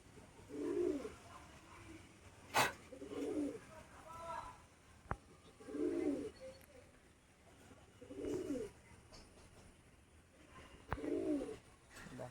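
Pigeons in a small home loft with young chicks, a soft low cooing repeating at a steady rhythm about every two to three seconds, close and gentle, with a few brief clicks and knocks between the calls.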